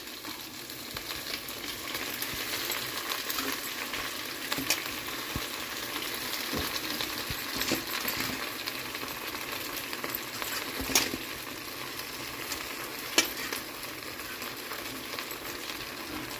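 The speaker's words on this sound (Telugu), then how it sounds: "కొంచెం ఒక 2 స్పూన్ల నూనె వేసి ఈ ఆకును ఫ్రై చేద్దాం అంతే." Gongura leaves fry in about two spoonfuls of oil, giving a steady soft sizzle with occasional stirring clicks and small pops for the whole stretch, with no talking.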